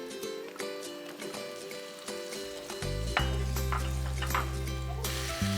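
Bacon and sliced mushrooms fry in a pan with a steady close sizzle and occasional stirring clatter; a low hum joins partway through and the crackle keeps going without talk.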